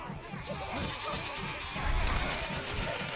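Sheep bleat in the game Overlord amid dense game noise, with rhythmic thumps and a louder burst partway through.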